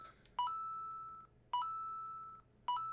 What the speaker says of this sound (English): It's just my phone going off.